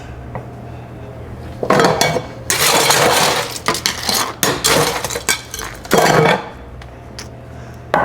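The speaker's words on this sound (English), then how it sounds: "Now, add ice." Ice cubes clatter and clink loudly into a metal shaker for a whiskey sour, arriving in several bursts with pauses between them, close up and without speech.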